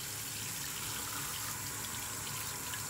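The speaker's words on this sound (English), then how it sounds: "We're gonna make the water warm." Warm water runs steadily from a household tap, a soft, continuous hiss and gush with no break, fairly quiet and close.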